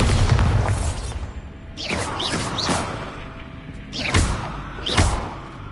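A Bombarda blasting spell in the Hogwarts Legacy video game: sharp whooshes followed by several booming blasts and crashes, heard loud and close with no talking.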